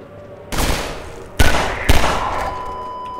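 Three loud, close gunshots from Half-Life 2 (2004): a single shot, then two more in quick succession, each trailing off into a short reverberant decay.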